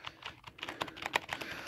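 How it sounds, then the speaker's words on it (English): Keys on a SteelSeries Apex 100 keyboard clatter in a quick, uneven burst of typing, a close series of soft, fairly quiet clicks and taps. "This is the Apex 100 SteelSeries keyboard. And the clicks ain't that loud either."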